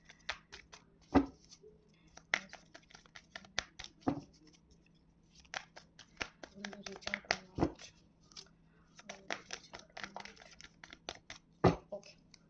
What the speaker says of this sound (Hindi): अगर आपको ये शफल नहीं देखना है